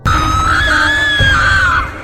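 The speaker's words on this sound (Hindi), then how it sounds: "भयानक चीख सुनाई दी" A horrible, piercing scream in the night, one long loud high-pitched cry that wavers and lasts nearly two seconds before cutting off.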